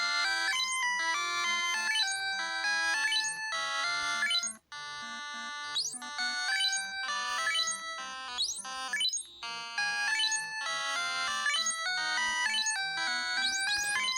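Final Fantasy NES chiptune music plays on an emulator, with busy bright square-wave melodies looping steadily at a fairly loud level and no speech.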